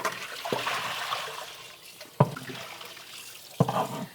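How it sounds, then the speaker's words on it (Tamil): Water washes out the stone of a wet grinder, sloshing and trickling at close range with several sharp splashes and knocks as water is poured and the stone is handled; no speech. "இப்போ இதை ஓப்பன் பண்ணி நல்லா கழுவிக்கலாம்."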